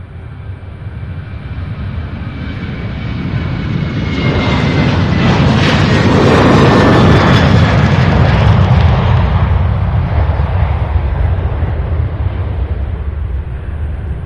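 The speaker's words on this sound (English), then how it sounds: "Beautiful takeoff. 737-900 heading to Atlanta, Georgia." A Boeing 737-900 airliner takes off at Louisville International Airport, its jet roar building as it passes, peaking loudly in the middle and then easing back into a steady, distant rumble, with no voices.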